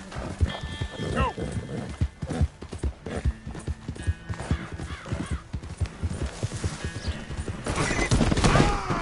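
A horse's hooves clip-clop in a steady, close rhythm at a wedding, with a brief whinny near the end and people's voices mixed in.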